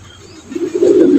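Running Mondian Black pigeons give a short, low, soft coo that swells louder toward its end, heard close and alone.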